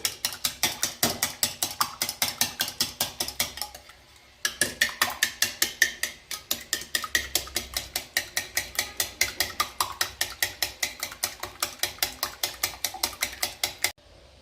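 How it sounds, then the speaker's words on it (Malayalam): A hand beater whisks eggs with milk in a bowl, giving a fast, steady train of ratcheting mechanical clicks, close and clear, with one short pause near the start and no talking. "നമുക്ക് നന്നായിട്ടിതൊന്ന് ബീറ്റ് ചെയ്തെടുക്കാം"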